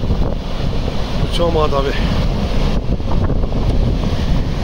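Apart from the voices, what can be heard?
waterfall at Manali, rushing water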